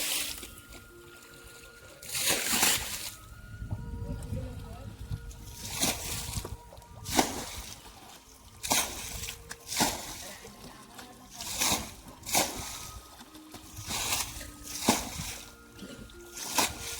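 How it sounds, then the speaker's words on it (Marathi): Water being bailed by hand out of a river pool to catch fish, heard as rhythmic splashes and sloshes about every second or so, close by over a quiet trickling background. "चला उपसायला सुरुवात झालेली आहे. असं आम्ही उपसणार सगळा."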